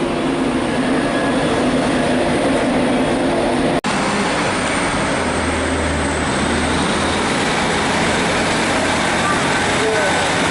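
Class 91 electric locomotive 91117 with a West Riding Limited nameplate arrives at Newcastle station on the East Coast Main Line from Edinburgh, a steady loud rumble and rail roar filling the whole platform scene with no pauses.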